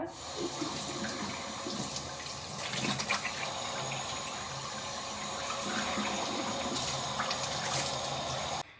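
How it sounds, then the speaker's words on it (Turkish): A bathroom tap runs steadily while someone washes their face, giving a close, continuous rush of water with small splashes and shifts before it stops abruptly. "yüzümü yıkayıp hemen geliyorum."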